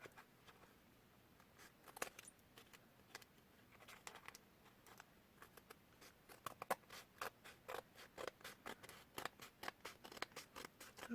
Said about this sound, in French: je suis en train de couper quelque chose là